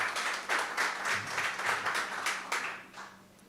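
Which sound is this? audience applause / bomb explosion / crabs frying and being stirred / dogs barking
audience applause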